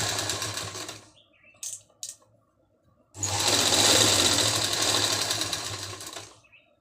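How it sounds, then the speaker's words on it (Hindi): A sewing machine stitches a zip into the back neck of a shirt: a short burst, a couple of brief ticks, then a longer loud continuous run of rapid needle clatter. "अब हमने इसमें एक लाइन लगानी है सिलाई"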